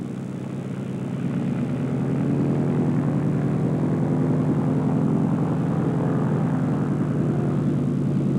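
A Cessna 195 light aircraft taxiing, its propeller engine droning steadily nearby and growing a little louder over the first two seconds, then holding a continuous rumble with no talk.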